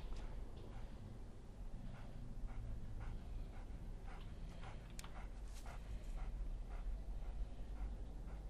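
A dog in the horror game Obscuritas yips and whimpers in short, repeated bursts that are faint and distant, set against a low steady rumble, with no talking.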